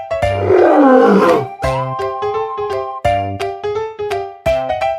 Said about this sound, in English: I am lion.